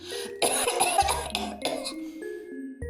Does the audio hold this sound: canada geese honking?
no